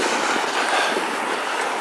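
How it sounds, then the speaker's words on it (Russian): Moscow tram number 7 rolling along its rails, a loud steady rumbling roar of wheels close by with no talk over it. "трамвай семерочка."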